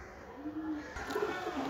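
A crested fancy pigeon in a cage gives low, throaty coos, one drawn-out call followed by a shorter burst of cooing, fairly close and soft against a faint background hiss.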